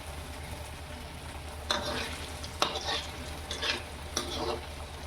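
Alu vadi slices frying in hot oil, a constant soft sizzle with a few brief bursts of louder crackling spaced out over several seconds.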